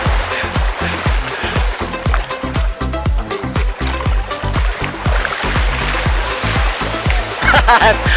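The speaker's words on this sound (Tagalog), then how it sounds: "Ang lakas ng alon, para tangayin ka sa taas?" Strong sea waves at Black Island, Busuanga, Palawan crash and splash close by in a steady run of loud surges, with excited voices breaking in now and then.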